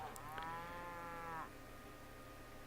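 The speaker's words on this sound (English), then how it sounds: "we do have some cows around here" Cattle mooing in the Civilization V strategy game, one drawn-out low moo lasting about a second and a half, clear and moderately close over faint background ambience.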